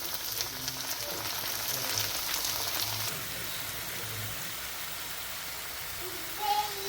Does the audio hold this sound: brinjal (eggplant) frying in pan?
yes